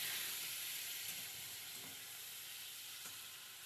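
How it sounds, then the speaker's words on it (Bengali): Ginger paste sautéing in a pan for a fish curry, a soft continuous sizzle with faint hiss and a few quiet stirring touches, fairly low in level and without speech. "ভালো করে একটু কষিয়ে নিতে হবে আদাটাকে, তাহলে আদার কাঁচা গন্ধটা থাকবে না।"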